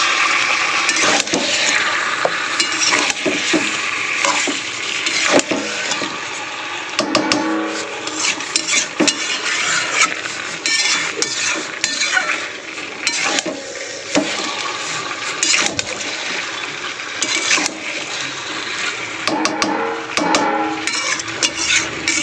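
Chicken curry cooked without added water is stirred in a pan, with repeated scraping, clinking and wet squelching of spoon against metal, loud and close, continuing in irregular bursts.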